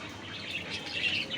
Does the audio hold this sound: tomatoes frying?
no